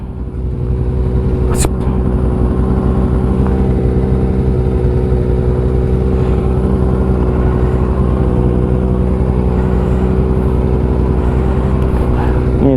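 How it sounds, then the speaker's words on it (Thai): A Kawasaki ZX25R motorcycle idles steadily after starting, a close, loud, continuous engine hum with a brief sharper blip near the start and no talk over it. "ติดเครื่องรอเลย"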